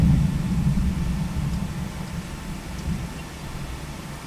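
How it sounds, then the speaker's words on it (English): A distant thunder rumble rolls low and steady through a Florida summer storm, a deep continuous murmur that slowly fades with no voices present. "Another thunder could be heard."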